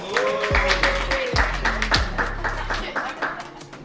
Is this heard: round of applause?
yes